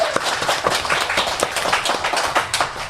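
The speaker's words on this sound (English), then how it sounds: "So big applause to him over there." An audience at a live podcast show claps in a quick, uneven patter of individual hand claps that rises and falls over a few seconds.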